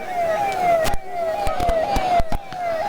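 Emergency vehicle siren wailing steadily near a crowded political rally in India, loud and continuous, with sharp percussive knocks over it.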